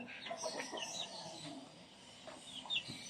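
Chickens cluck and call at close range in a backyard coop while a handler tries to catch one, with short irregular calls over a steady rustling background and no talk.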